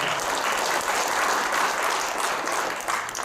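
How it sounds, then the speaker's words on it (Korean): An indoor audience at a Korean archery instructor training session applauds steadily for a few seconds, a dense, even clapping with no talk over it. "다시 한번 큰 박수로 네, 부탁드립니다"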